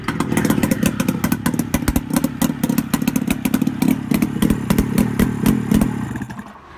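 CFMoto X8 ATV engine idles roughly with rapid uneven clattering and knocking firing pulses, loud and close, running steadily before easing off at the end.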